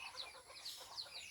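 Chickens around a rural farmhouse where poultry is raised for a living, soft repeated clucking and chattering from several birds close by, steady and unhurried with no one speaking.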